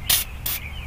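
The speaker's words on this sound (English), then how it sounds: "I'm just gonna spray a little of this" WD-40 is sprayed into the cylinder bores of a Ford 302 5.0 engine block in two short, sharp hissing bursts close up, with a brief pause between them.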